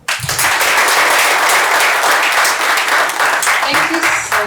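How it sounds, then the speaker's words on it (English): A sustained, loud round of audience clapping at a book launch, steady for over four seconds with a brief voice at the start. "A better clap."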